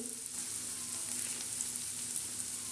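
Onions frying in a pan, a soft steady sizzle heard close and alone, low in level.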